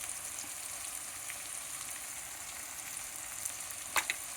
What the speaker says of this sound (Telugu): వేగనివ్వాలి బాగా కాయగూరలు.